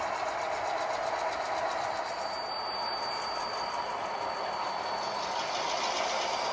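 A freight train with diesel locomotives rolls past steadily with a dense, continuous rumble and rattle of cars, loud and close, without voices.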